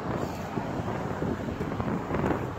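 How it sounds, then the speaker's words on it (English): Wind buffets the microphone in steady, rumbling gusts, a low blustery roar with no voices. "It's kind of windy."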